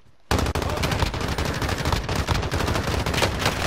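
Dense, continuous automatic gunfire fills a Call of Duty Warzone match, starting abruptly after a brief quiet moment and then staying loud and steady as several weapons overlap in a chaotic exchange.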